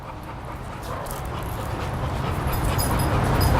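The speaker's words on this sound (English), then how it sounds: "And all this panting he's doing, it's all stress." A stressed dog panting rapidly during a training session, steady breathy rhythm close by, growing slightly louder toward the end, with no talk over it.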